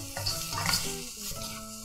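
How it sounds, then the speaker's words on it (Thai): Glass noodles being stir-fried in a pan with fresh shrimp, kaffir lime leaves, green peppercorns, fingerroot and sliced red chili, giving a steady close sizzle and scrape of tossing with no talk. "แล้วก็คลุกเคล้าให้เข้ากันอีกครั้งค่ะ"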